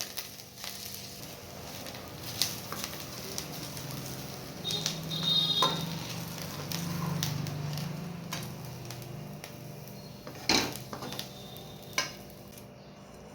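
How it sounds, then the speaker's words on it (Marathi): Grated coconut roasting in a kadhai, stirred constantly so it won't burn, with scattered scraping ticks and clinks over a soft, steady low sizzle, fairly quiet throughout. "खोबरं पटकन भाजलं जातं सतत हलवत राहायचं आहे"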